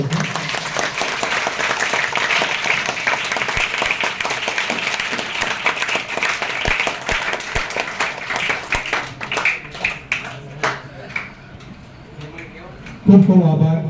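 A school audience in Kankhoi, Bhachau, Kutch claps loudly for several seconds. The dense applause thins into a few scattered claps, and a voice speaks at the end.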